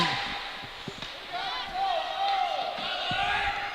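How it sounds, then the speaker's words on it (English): Hockey fans cheering for their team during the third period of a Brinity West Giant Pioneers versus Hanover Marauders game, a steady crowd roar with shouts and whoops over scattered thuds from the rink. "fans still cheering with all their might on their team"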